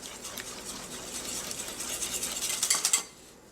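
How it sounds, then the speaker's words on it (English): A whisk scrapes and clicks steadily around a bowl of mashed banana, applesauce, vanilla extract and coconut oil for carrot apple muffins, with quick metallic strokes that build briefly near the end before stopping. "Then we're going to whisk this together"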